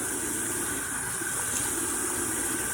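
Hot water runs steadily from a tap while hair is wetted, a constant close hissing splash with no talk over it.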